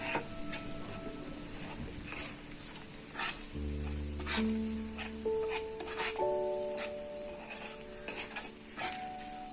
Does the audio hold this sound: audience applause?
no